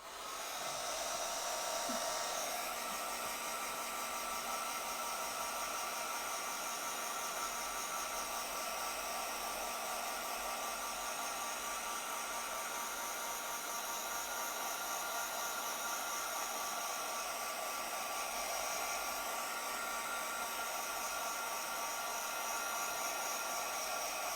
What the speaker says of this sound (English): All right, so I'm going to dry this real quick.